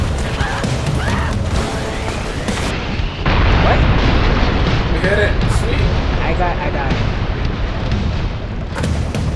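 Bomb explosions in the video game Broforce, heavy dense booms and bursts rolling continuously under game noise while players shout and talk excitedly over them.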